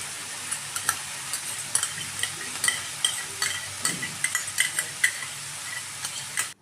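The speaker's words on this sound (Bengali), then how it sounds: "আর দিয়ে দিচ্ছি সসের মিশ্রণ" Chicken chow mein frying in a small wok as a sauce mixture is poured in, a steady sizzle beneath irregular scraping and stirring clinks, close and moderately loud, with no talking.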